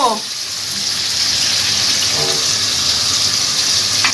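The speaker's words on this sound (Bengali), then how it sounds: "আর চিংড়ি মাছ হচ্ছে এই যে ভাজতে বসিয়ে দিয়েছি" Prawns frying in a hot pan, a steady loud hiss and sizzle that swells and holds for a few seconds with faint kitchen clatter.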